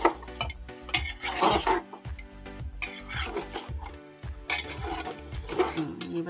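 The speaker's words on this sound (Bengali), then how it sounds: "এই মশলা দিয়ে একদম পুরা কষাবো" Chicken being stir-fried with finely ground spices in a pan, with repeated scraping and stirring strokes of a utensil against the metal in an uneven rhythm, close and fairly loud, with a light sizzle underneath.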